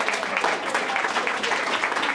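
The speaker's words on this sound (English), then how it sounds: "Can we give a big round of applause" Audience at a Toastmasters women's event applauds in a steady, even wash of clapping that fills the short stretch without any pause.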